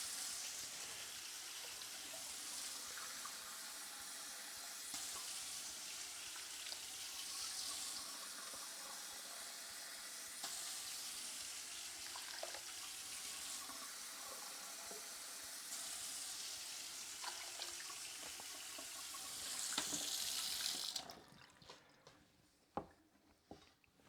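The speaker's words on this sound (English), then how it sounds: "We're going to add 4 cups of water." Water pouring into a cooking pot for Spanish rice, a continuous faint running splash that goes on for about twenty seconds, then stops, followed by a few quiet knocks and clatters.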